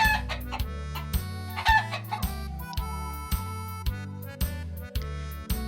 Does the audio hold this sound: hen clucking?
yes